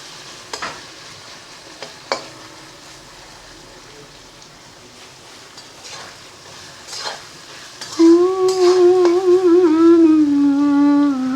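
Shrimp and mixed vegetables for homemade hakka chowmein hit a hot pan. Soft scraping and a few sharp clinks of the utensil come first, then a loud, steady sizzle takes over for the rest.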